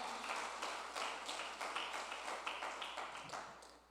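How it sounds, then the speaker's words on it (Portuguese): Many hands clap in a steady rhythm, a church congregation keeping time together, fairly loud and continuous throughout. "Bata as palmas para o Senhor"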